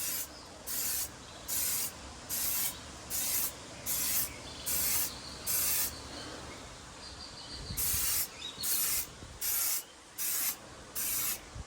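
Repeated short bursts of protectant mist sprayed onto a Hyundai Santa Cruz car seat, about a dozen evenly paced hisses with brief pauses between them, close and fairly loud, with soft rubbing in the gaps and no talking.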